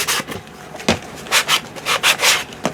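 Sandpaper scrubs across an old book cover being reworked into a journal cover in a series of close, raspy strokes, some short and some longer, with brief pauses between them.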